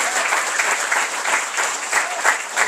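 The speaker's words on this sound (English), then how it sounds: "please a round of applause" Audience applause at a startup fireside chat, steady close clapping from a modest crowd throughout the short stretch.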